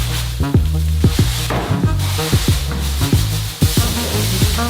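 Sugar, about 40 kilograms in all, pours from opened bags into buckets for giant donut batter, a continuous grainy hiss over a steady rhythmic low thumping background.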